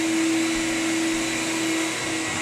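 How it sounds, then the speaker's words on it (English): A vacuum cleaner runs across a 100-year-old top-nailed wood floor in a living room after the nails are set, giving a loud, steady, unbroken drone with a constant hum from start to finish. "He's vacuuming it out, getting ready to fill this floor."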